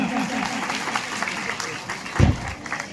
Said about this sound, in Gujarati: તાળીઓ વગાડો, તાળીઓ